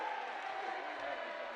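Volleyball crowd in an Annapolis arena at match point of an Army at Navy match, a steady roar of cheering that holds for the whole moment without breaks.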